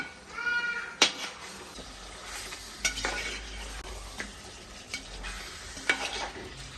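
Butter chicken is stirred in a pan with butter, giving a steady soft sizzle under scraping, with sharp clinks of a utensil against the pan near 1, 3, 5 and 6 seconds.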